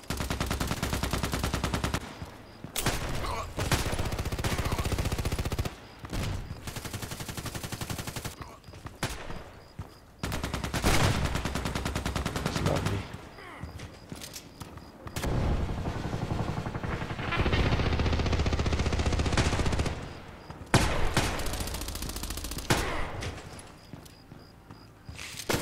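A SCAR-L rifle fires in a video game, long loud bursts of rapid automatic gunfire broken by short pauses, repeating across the stretch and sounding up close.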